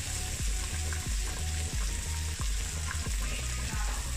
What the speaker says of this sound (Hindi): अच्छी तरह फ्राई कर लें। ये चिकन अच्छा सा फ्राई हो गया।